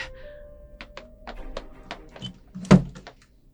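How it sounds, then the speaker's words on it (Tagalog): A door is opened after its padlock is broken: a series of light taps and creaks leads to one sharp, close wooden thunk, then quieter knocks. "Ngayon, bubuksan ko ang pintuan."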